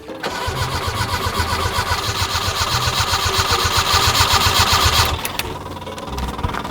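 A drift car's engine cranks loudly and rhythmically for about five seconds without firing, then stops and leaves quieter mechanical noise.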